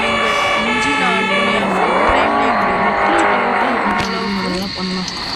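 A car in the Roblox-style driving game Emergency Hamburg revs and drives with a loud, steady engine drone and shifting pitch, with a siren-like wail and tire noise in the mix and someone talking over it.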